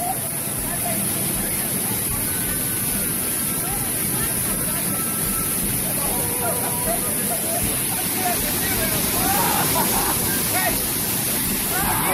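Waterfall at El Rosario falls in San Ignacio, Chalatenango, El Salvador, a steady loud roar of pouring water throughout, with people shouting and talking nearby over the rush.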